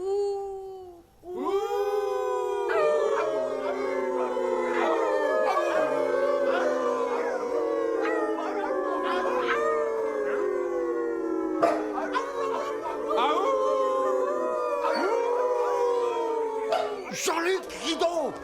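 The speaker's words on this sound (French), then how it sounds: "Il y a des loups. Beaucoup de méchants loups." Several wolves howling at night, long rising and falling overlapping howls layered into a loud chorus, continuous throughout with a few sharper yelps near the end.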